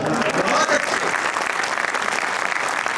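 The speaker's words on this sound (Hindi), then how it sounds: "अच्छा, इससे बड़ी स्वाभाविक सी ताली आ रही है।" Dense, steady audience applause from a live poetry gathering fills the whole stretch at close range, a continuous wash of many hands clapping with no pauses.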